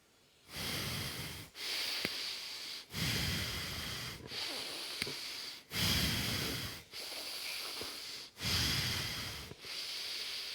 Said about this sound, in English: It's just to do the breathing that's required to bring the body back into aliveness.